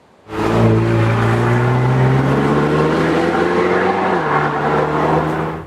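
Alpine A110 sports car engine driving on the Col d'Izoard mountain pass in the French Alps, starting abruptly, loud and close, with pitch climbing through a gear, then a shift and continued pull.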